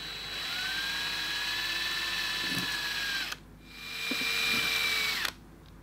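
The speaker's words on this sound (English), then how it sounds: "drill a hole at both ends and blow it out" A small rotary drill whines steadily while boring holes into a chicken eggshell for a resin craft, with two long, loud high-pitched runs separated by a brief pause and faint clicks.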